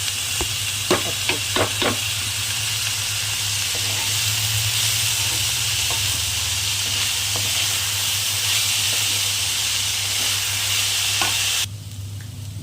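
Steady loud sizzling and hissing of leafy greens frying in a pan, with a few clinks of stirring, cutting off abruptly near the end.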